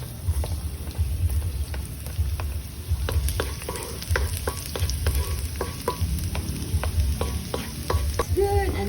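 Garlic sizzles loudly in hot oil in a pan for luncheon meat fried rice, a steady crackling fry with repeated scraping stirs throughout, close and with no talking.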